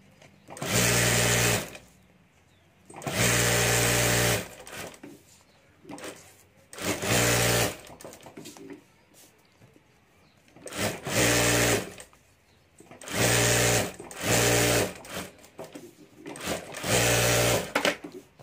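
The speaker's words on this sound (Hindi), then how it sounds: "यहाँ ऊपर मैं चारों तरफ सिलाई कर देता हूँ" A sewing machine stitches fabric around the border of a handmade handbag, running in loud bursts of a few seconds each, separated by short pauses, with no talking.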